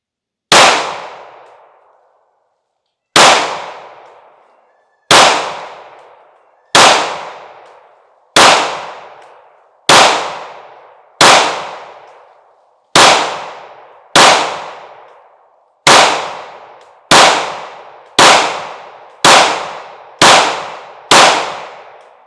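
Smith & Wesson M&P 9mm M2.0 Metal pistol with a 4.25-inch barrel firing about fifteen sharp, loud shots outdoors, starting with a slow cadence and quickening to a steady rapid pace, each crack followed by a short decaying echo.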